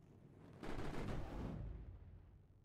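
Gunfire striking a unit in Mindustry, a quiet steady bed that swells into a dense burst of rapid impacts midway before tapering off, with no talking.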